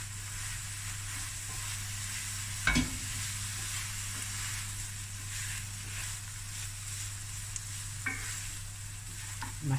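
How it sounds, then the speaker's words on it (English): Cooked basmati rice stirred in a hot pan, a faint steady sizzle with a few sharp scraping knocks of the spoon now and then. "Give it a stir."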